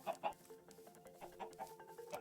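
Minecraft chickens give short, quiet clucks in a soft, irregular series of a few bursts, with no talking.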